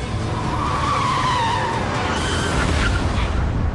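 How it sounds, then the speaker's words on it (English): A car's automatic emergency braking engages just short of an obstacle, tires skidding loudly in a sustained rushing squeal over roughly four seconds. "Then, just yards from a collision, the automatic braking system kicks in"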